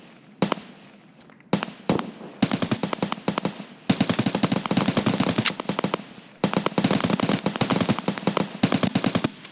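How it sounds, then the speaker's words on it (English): Video game gunfire: loud, dense automatic bursts in rapid rattling strings, separated by brief pauses and a few isolated single shots, close and continuous for most of the stretch. "So much shooting going on up there."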